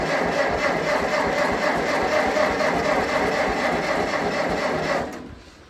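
Engine of a 1953 Massey Harris 33 tractor running at a steady idle, a dense, even chugging rumble held for about five seconds before abruptly cutting off.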